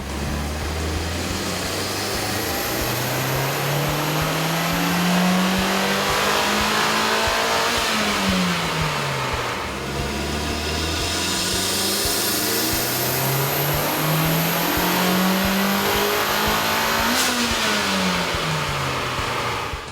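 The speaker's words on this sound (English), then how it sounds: "we ran the vehicle on the dyno to test the sound comparison versus the stock intake" A Mitsubishi Lancer Evolution 2.0L turbo engine with a K&N air intake revs up loudly and steadily on a dyno, climbing in pitch, drops back, then climbs again in a second long sweep, with a constant intake roar throughout.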